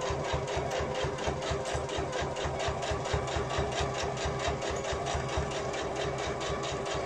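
Sewing machine stitching a seam on a fabric pochette, a fast, even mechanical chatter of the needle running continuously and close.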